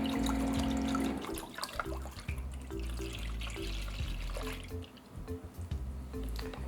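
Water is poured into a cooking pot for grits that already holds half and half, a splashing, trickling stream that thins into irregular drips and small splashes.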